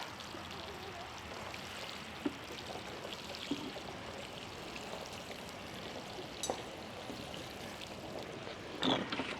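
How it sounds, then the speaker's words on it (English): Garden watering of freshly planted spring flower bed plants: a steady, close hiss of water pouring and spattering onto soil and leaves runs continuously throughout, with a few brief clicks and knocks near the end. "And then give them a good water. Kind of water them a little bit like this."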